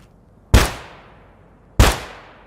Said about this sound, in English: So this is what the Glock sounds like from the previous update.